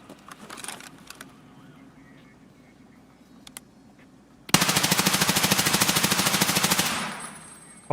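A rapid automatic burst of video game gunfire from a P90, loud and dense for about two seconds, following quieter background game sounds and scattered clicks.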